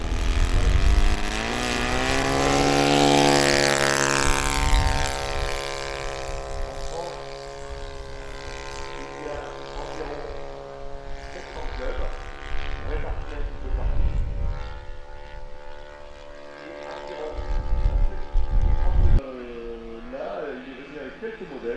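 A radio-controlled model airplane buzzes through the air, its engine note rising and falling as it flies past and comes in to land, loud and continuous for most of the stretch with people talking over it.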